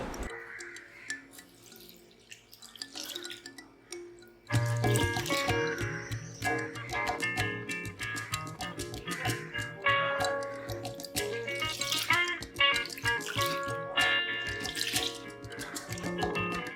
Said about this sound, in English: I am going to wash and strain 1 cup of dal.